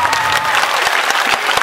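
Loud, dense applause from a live concert crowd in Agra, with steady, continuous clapping filling the whole short stretch.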